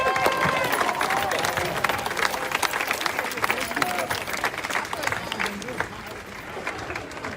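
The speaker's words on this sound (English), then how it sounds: "So let's give him a round of applause." A protest crowd gathered outdoors for a poet and activist gives a round of applause: a dense, sustained roar of clapping and cheering with voices mixed in, slowly fading toward the end.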